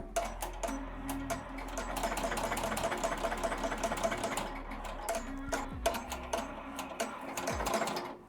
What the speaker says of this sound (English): Okay, has a placement stitch, so I'm just gonna let that placement stitch run.